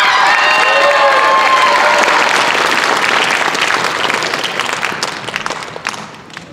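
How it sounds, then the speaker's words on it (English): A school awards ceremony audience applauds loudly with scattered cheers, the clapping gradually thinning and fading out over several seconds. "Please give a round of applause to Elia Stewart Serrano."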